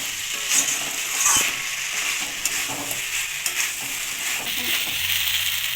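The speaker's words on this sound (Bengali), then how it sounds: "ভেজানো সাবুগুলো আমি এখন দিয়ে দিলাম। এবার সুন্দর করে নাড়াচাড়া করে আমরা রেখেছি।" Soaked sago is stirred in a hot pan for a vegetarian Ekadashi curry, a soft continuous sizzle with light scraping stirs, close and moderately loud, with no voices.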